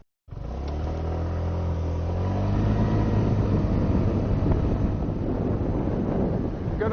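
A scooter rides steadily toward a corner ahead of emergency braking, its engine hum rising and holding under strong wind buffeting at the microphone, close and continuous throughout.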